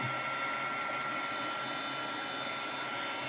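Electric heat tool blowing steadily over ink on a handmade card, a continuous close airy whoosh with a constant motor hum, no talking.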